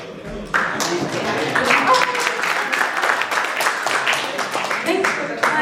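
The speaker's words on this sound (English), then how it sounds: "Thanks for the clap." Audience at a company product launch event breaks into steady, sustained applause, a dense roomful of clapping heard close and fairly loud, with a few voices mixed in.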